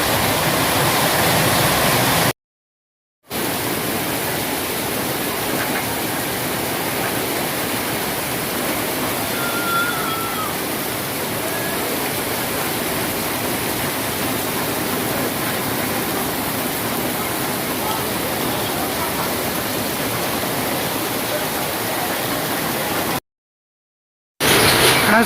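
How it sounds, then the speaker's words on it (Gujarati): Heavy rain driven by strong wind in Bodeli during a May downpour, a dense, steady roar of falling water that stays loud and unbroken throughout, with two brief silent gaps. "અત્યારે ભારે પવન ફૂંકાતા ભારે વરસાદ થઈ રહ્યો છે."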